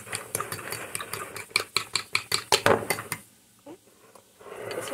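Utensil scraping and clinking against a pan while mixing egg pie ingredients, a quick run of sharp rhythmic strokes that stops abruptly and leaves a quieter stretch with a soft knock.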